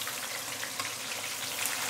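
An ikan keembung fish pan-fries in a wok just after being flipped, giving a dense, steady sizzle and crackle of hot oil with small pops scattered through it.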